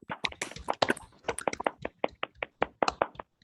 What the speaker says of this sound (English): Does everybody want to unmute briefly and give them a round of applause?